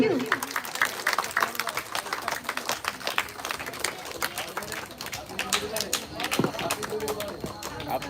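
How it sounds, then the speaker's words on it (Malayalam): Guests at a celebration for a priest clap in a loose, uneven round of applause that runs throughout, mixed with overlapping voices and chatter. "ഒന്ന് കൈയടിക്കൂ."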